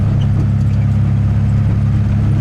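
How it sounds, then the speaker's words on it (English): A 1974 VW Beetle engine with a cylinder head problem runs close by, giving a steady low drone with a faint rattling texture and no talk over it. "it has that distinct sound of a cylinder head"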